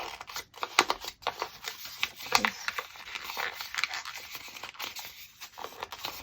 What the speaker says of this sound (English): I'm just going to give this one a little bit of a crumple